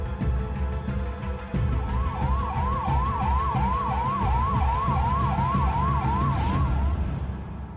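Ambulance siren wailing in a rapid repeating up-down cycle at a distance over traffic and engine rumble, fading out at the end.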